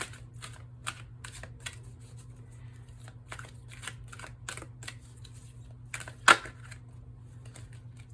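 Oracle cards being shuffled by hand during a card reading: soft, crisp riffling bursts at an uneven rhythm, with one sharper snap near the end, over a low steady hum.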